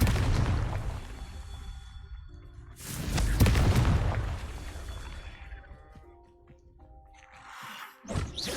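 Confringo spell blasts go off in the Hogwarts Legacy video game: a loud, booming explosion with a rumbling tail. A second heavy blast follows, then a sharper burst near the end.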